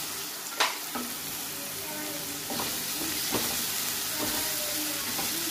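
Onion, capsicum and other vegetables fry for mutton paya chilli, a close, constant sizzle with a few scraping stirs and clinks of a utensil against the pan.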